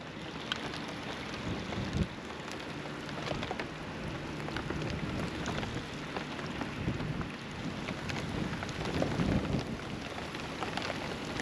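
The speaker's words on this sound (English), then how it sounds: "That is a cold rain, too." Cold spring rain falls steadily in Wisconsin, a dense continuous patter and hiss with scattered louder drops, close and even throughout with no voices.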